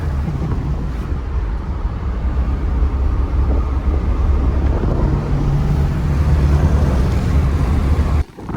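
Bagged air-suspension VW oval window Beetle driving, heard from inside the cabin as a steady, loud low engine drone and road rumble that holds for the full stretch before cutting off abruptly near the end.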